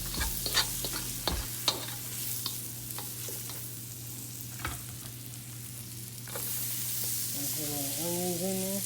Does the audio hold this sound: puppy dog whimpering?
no